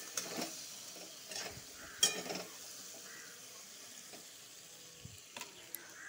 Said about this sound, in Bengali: তারপর ভালো করে ভাজা করব।